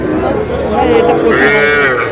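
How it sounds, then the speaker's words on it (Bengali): Young bulls and a heifer calf at a cattle market in Noakhali low continuously, overlapping moos close by and loud, filling the whole stretch without speech. "ওটা বকনা, এই দুটা ষাঁড়।"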